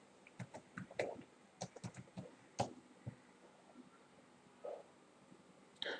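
Keystrokes on a computer keyboard as a search query is typed, scattered clicks in short irregular bursts with pauses between, fairly quiet and close, no talking.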